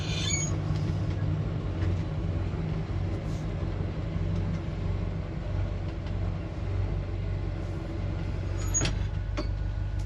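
A car's engine rumbles steadily at low pitch as it drives around, with faint clicks and rattles over the continuous hum and no talking.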